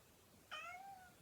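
A house cat gives a single short meow indoors, fairly faint and slightly drawn out at the end, with no talk over it.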